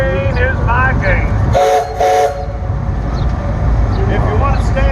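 Goldfield Ghost Town tourist train ride in Arizona, with a rumbling, rattling train and two short horn blasts in the middle, while people talk loudly over the running noise.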